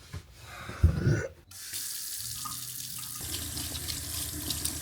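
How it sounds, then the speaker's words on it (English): Shower water runs steadily on a canal boat, a constant hiss following a few brief knocks and a short gap, close and alone with no talk. "Let's have a shower on a boat."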